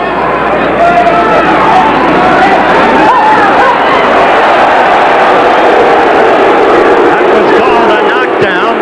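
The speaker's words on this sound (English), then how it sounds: "The crowd boos it." A large arena crowd at a 1980 USA vs Cuba amateur boxing bout boos in a loud, steady roar of massed voices that holds without a break throughout.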